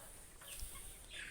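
Pet hens clucking softly and intermittently in a backyard coop, faint and close, with a few brief higher calls over steady background noise.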